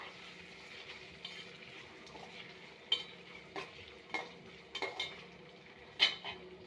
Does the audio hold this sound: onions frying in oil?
yes